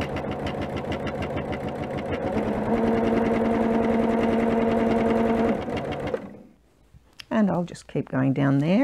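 A sewing machine stitches along the edge of already-quilted fabric pieces, its steady rapid needle chatter running for about six seconds. After it stops, someone speaks alone.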